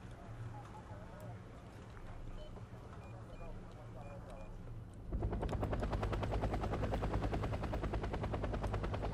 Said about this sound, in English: There's this line of helicopters moving through.